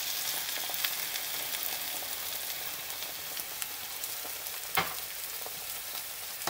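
Potato slices for a shepherd-style Spanish tortilla fry in a pan after a splash of white wine, a soft, steady sizzle with occasional faint pops and a few stirring clicks, quiet and close with no talking.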